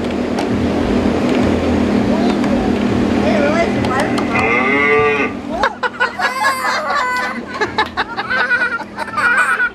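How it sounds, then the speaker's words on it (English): A cow moos loudly in long drawn-out calls at a fair, with a motor humming underneath and people chattering and laughing nearby afterward. "You can go milk a cow"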